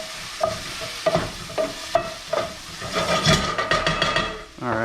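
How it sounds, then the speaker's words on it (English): Chilies frying in a hot pan sizzle steadily while a utensil stirs them with a regular series of scraping knocks, ending with a brief louder clatter. "when I cook with chilies, throw it in a hot pan"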